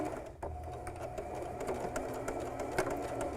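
Sewing machine stitching a small felt mouse ornament, a steady close running hum with a faint rapid needle rhythm throughout.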